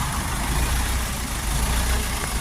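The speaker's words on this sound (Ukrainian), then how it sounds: "Трактор на 40 кінських сил, 40 сильний" A Dongfeng 404 tractor with a 40-horsepower engine idles steadily nearby, a low, even diesel rumble with no change in pace and no talk over it.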